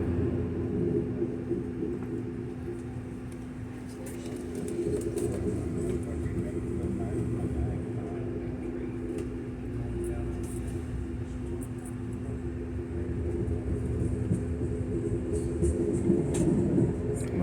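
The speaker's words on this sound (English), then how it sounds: "I can feel the Amtrak rolling now." Low steady rolling rumble of an Amtrak passenger train heard from on board between Savannah and Wilmington, a continuous drone with a faint hum and occasional light clicks.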